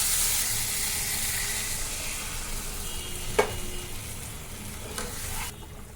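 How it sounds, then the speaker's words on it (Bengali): Spice paste for a fish curry sizzles and fries steadily in a pan while being stirred, with a couple of sharp scrapes of the spoon against the pan. "দিয়ে এবার নাড়াচাড়া করব, দিয়ে কষিয়ে নেবো ভালো করে"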